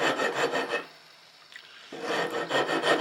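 A sharp file rasps wood away from a rifle stock with close, loud rhythmic strokes, pausing for about a second before the scraping resumes.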